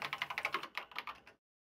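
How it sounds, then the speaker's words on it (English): Rapid keyboard typing as a sound effect in a Danganronpa fandub, a quick run of a dozen or so close, crisp keystrokes lasting just over a second, then silence. "Kyoko began typing, the words appearing as fast as I could read them"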